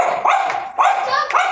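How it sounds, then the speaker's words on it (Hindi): A dog barks three times close by, short sharp barks spaced evenly about half a second apart. "नहीं तो लूका भौंकने लगेगा।"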